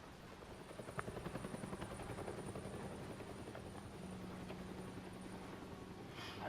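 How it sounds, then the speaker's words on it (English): Helicopter in the Batman Telltale video game, a steady rotor drone holding at an even, fairly loud level throughout with no voices over it. "Helicopter, helicopter, helicopter chopper."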